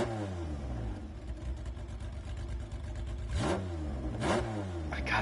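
A Lancia Stratos in Gran Turismo 7 revs hard through rising engine sweeps, with two sharp climbing blips near the end over a constant buzzing drone, loud and without talk.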